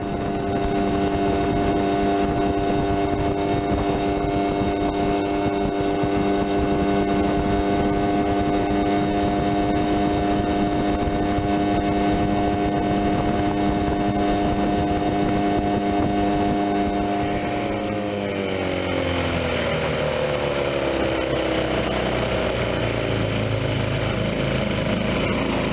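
A 15 HP Johnson outboard motor pushes a 15-foot Duracraft John boat at speed, a steady high-pitched drone that drops in pitch partway through as the throttle is eased back and the engine winds down.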